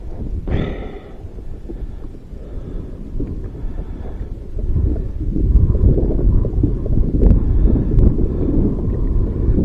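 Strong wind buffets the microphone outdoors, a deep rumbling roar that swells after a brief sharp gust at the start and grows heavier and louder through the second half, continuous and close with no speech.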